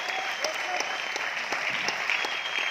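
An audience in an Aurangabad seminar hall claps steadily, a dense, continuous round of applause holding at even loudness for the whole stretch with no voices rising above it.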